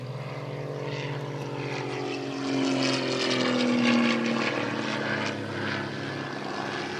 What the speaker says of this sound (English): So the aircraft with the yellow marking is our German Messerschmitt.